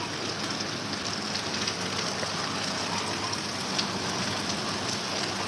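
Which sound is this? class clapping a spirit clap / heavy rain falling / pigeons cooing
heavy rain falling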